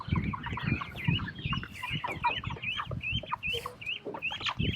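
Chickens in a farm yard near chicken tractors cluck and squawk busily, many overlapping calls close by with scratching and low thumps beneath, no talking.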